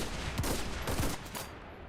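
Video game gunfire crackling in a quick burst of several close shots, followed by a quieter fading tail, with no voices.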